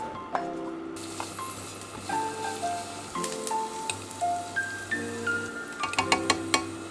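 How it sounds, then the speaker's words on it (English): Garlic and ginger frying in about two tablespoons of vegetable oil for a Korean burger, a steady close sizzle with soft crackles and pops, over background music. "Cook the garlic and the ginger until it's brown."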